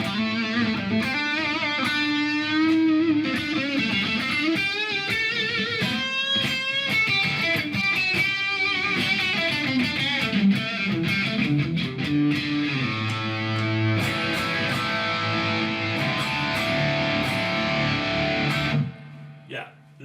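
A Stratocaster electric guitar through a Quad Cortex amp model plays a run of chords and single-note melody lines, clean with some grit, ending with a brief pause and a final strum.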